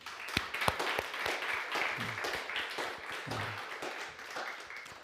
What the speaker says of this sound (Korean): 우리 네 분 다시 한번 우리 축복의 박수 하겠습니다.